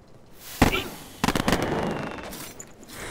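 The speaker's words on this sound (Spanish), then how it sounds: "Demasiadas explosiones" Several sharp blasts ring out in The Dungeon of Naheulbeuk video game, one loud bang followed by a cluster of rapid booms with a rumbling tail, fairly close and loud.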